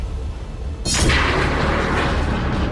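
Explosions from Hezbollah attacks on Israeli military posts and a surveillance tower at Al Abad. The blast arrives as a sudden loud burst and becomes a sustained, heavy roar that does not fade. Low rumble fills the background before it, with no speech.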